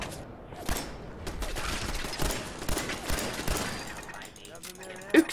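Gunfire in Fallout 4 crackles in rapid bursts of shots, with a louder burst just before the end and a quieter patch toward the close.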